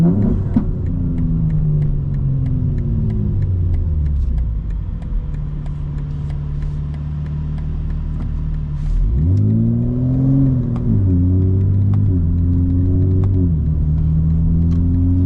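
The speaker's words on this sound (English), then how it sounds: "I shifted up really quickly so that the car wouldn't spin, and that I could get into a higher gear and accelerate smoothly" A 900 hp 2025 BMW M4 Competition xDrive accelerates hard, its engine note climbing steeply and then dropping sharply with each quick upshift, a loud, close, continuous run of rising revs with no talking.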